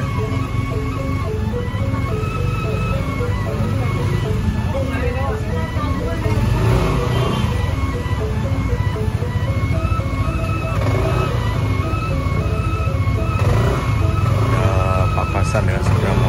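Motorcycles and cars crawl along a narrow, busy street in Kuta, Bali, with steady engine hum, passing scooter revs and horns, while someone talks over the traffic throughout.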